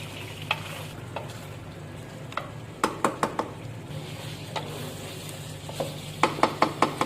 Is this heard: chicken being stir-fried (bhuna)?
yes